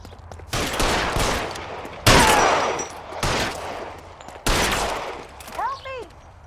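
Heavy gunfire from the video game L.A. Noire: several loud, sharp bursts of shots a second or so apart, each trailing off into a booming echo, with voices calling out between them.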